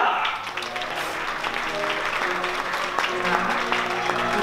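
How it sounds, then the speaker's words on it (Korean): A wedding crowd applauds steadily for the groom's entrance while an amplified voice speaks over the clapping. "큰 박수 부탁드리겠습니다"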